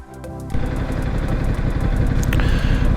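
Ducati Multistrada motorcycle fitted with a Touratech L windscreen, its engine starting up and then droning steadily and loud while riding, with a rising rev partway through.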